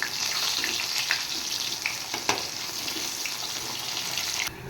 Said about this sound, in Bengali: এদিকে তেল গরম হয়ে গেছে, এবার আমি কই মাছগুলো কেটে নিয়েছি, এগুলো ভেজে নেব।